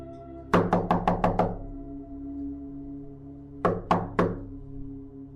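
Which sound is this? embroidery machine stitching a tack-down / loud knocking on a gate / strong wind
loud knocking on a gate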